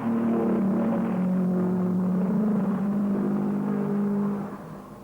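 Several 1953 Formula 1 racing cars roar past at the Swiss Grand Prix, a loud, steady engine drone with shifting pitch that holds for several seconds before easing off at the end.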